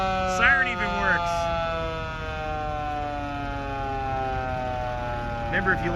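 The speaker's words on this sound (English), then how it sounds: "Siren even works." The mechanical siren of a 1952 American LaFrance 700 series fire truck wails with a long steady tone that slowly winds down, with a few brief voices over it.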